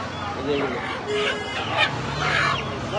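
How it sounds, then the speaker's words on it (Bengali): Ducks and chickens at a poultry stall in a Bangladeshi market give a few brief honking quacks and clucks amid a busy crowd murmur, loud and close. "হাঁস মুরগি বিক্রি হচ্ছে এখানটায়।"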